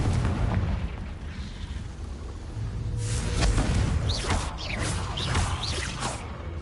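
In the video game Hogwarts Legacy, the Confringo explosive spell is cast amid a dense, loud rumble of booms and whooshing blasts, with brief higher squeals near the end.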